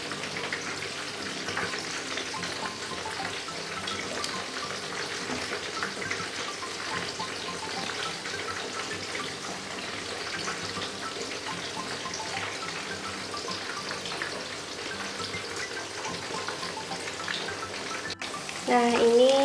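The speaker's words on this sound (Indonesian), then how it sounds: "ini saya juga sambil menggoreng tempenya tadi" Tempeh and potatoes frying in hot oil give a steady, even sizzle that runs throughout, with faint kitchen clatter near the end.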